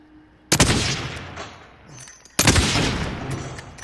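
Two loud, close gunshots ring out in Call of Duty: Modern Warfare, each a sharp crack trailing into a long echoing decay, spaced about two seconds apart over quiet game ambience, with no talking.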